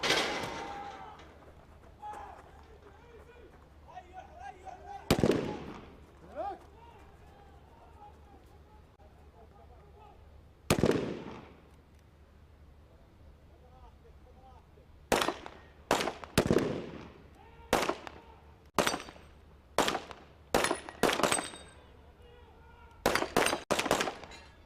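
Sharp sniper rifle shots at the UAE SWAT Challenge 2023, a few spaced cracks early, then a quicker run of echoing reports in the second half, heard at a distance under ongoing commentary and crowd murmur.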